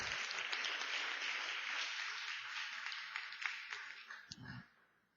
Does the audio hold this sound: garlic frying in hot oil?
no